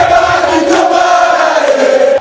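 A crowd welcoming a politician of the CRDF coalition in Lualaba, DR Congo, a loud sustained mass of voices singing and chanting together close by, steady throughout before dropping off at the end.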